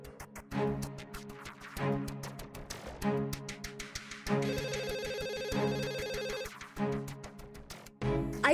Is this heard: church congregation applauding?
no